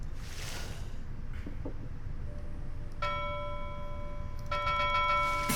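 A nautical bell rings in the video game Pyre, with a few clear metallic tones and a longer sustained ring toward the end, sitting over a steady background hum of game ambience.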